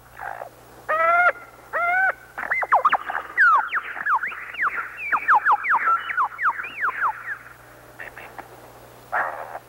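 A lyrebird, a vocal mimic, calling from deep forest: a run of loud, varied whistles, trills and rapid warbling phrases that rise and fall over about ten seconds, clear and close with slight echo.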